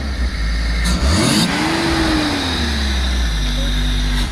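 A car engine revs up loudly, rising in pitch then settling into a strong steady rumble, close by and continuous.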